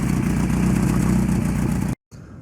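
A Lotus Excel engine runs with a leaking, blowing exhaust, a steady close mechanical drone that cuts off abruptly near the end.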